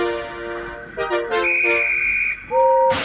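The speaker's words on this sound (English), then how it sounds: "Rosie watched in awe as the guard eventually blew his whistle and Gordon set off." A train guard at a station, in a Thomas and Friends wooden railway remake, blows a shrill whistle. Several short toots and a long sustained blast sound loud and close, with a brighter tone rising at the end.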